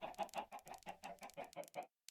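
A Minecraft chicken clucks in a rapid run of about ten short, evenly spaced clucks, close and alone, ending in a brief pause and one faint click.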